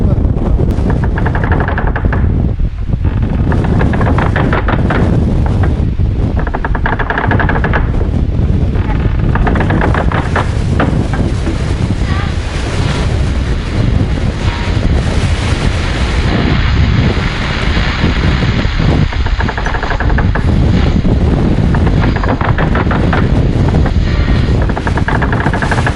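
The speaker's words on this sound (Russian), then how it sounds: "Ветер сильный" Strong wind buffeting the microphone high on Mount Elbrus during a climb, a loud, constant roaring rush with gusty surges and rumbling low-end throughout, no clear voice over it.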